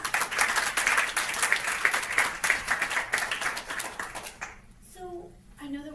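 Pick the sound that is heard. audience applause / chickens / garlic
audience applause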